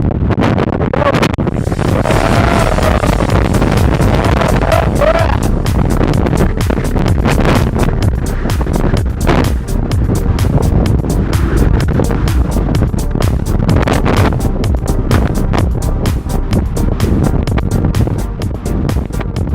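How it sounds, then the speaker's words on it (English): An airliner at Phuket Airport spooling up its turbines for takeoff, a loud continuous roar and rumble buffeted by wind noise, sustained and close throughout. "It's taxied into position and it's waiting to be cleared for takeoff, and it's powering up right now"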